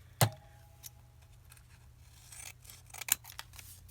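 Scissors snip through a cereal-box junk journal page, one sharp close cut followed by softer paper handling and a second pair of quick snips.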